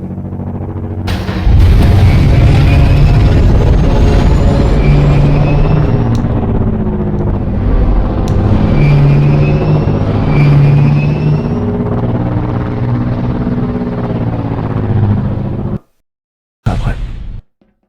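An aircraft in a Garry's Mod Clone Wars scenario roars through takeoff with a loud, steady engine rumble and layered whooshing tones, sustained for many seconds before cutting out abruptly near the end.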